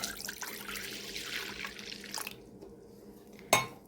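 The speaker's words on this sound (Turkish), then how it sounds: "ılıtılmış sütümüzü kabımıza alıyoruz" Warmed milk pours into a bowl for poppy-seed buns, a steady liquid stream that stops abruptly, followed by a short quiet pause and a single sharp clink.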